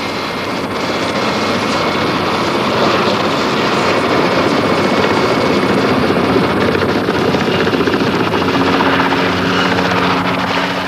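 Naval aircraft on a training flight over a wreck site at sea, a loud, steady rotor-like drone holding close overhead for the whole stretch.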